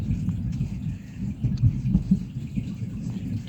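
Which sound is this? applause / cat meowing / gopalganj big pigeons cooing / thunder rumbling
thunder rumbling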